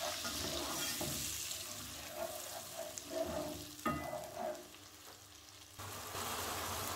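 Onion paste fries in a pan for restaurant-style butter chicken, a soft steady sizzle with stirring scrapes and wet bubbling bursts midway, quiet and close with no voices.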